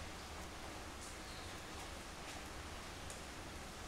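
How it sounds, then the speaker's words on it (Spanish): Steady rain falling outdoors in a natural setting, heard as a soft, continuous hiss with faint patter that stays even throughout, with no voices. "la lluvia que cae"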